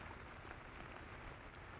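Rain falls steadily on a fish pond, a soft, continuous pattering hiss that stays faint and even through the short stretch.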